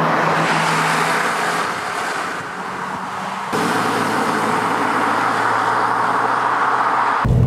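BMW car driving along a country road, a steady engine hum and rolling tyre and wind noise heard from inside the cabin, with a brief dip in level midway and no talking.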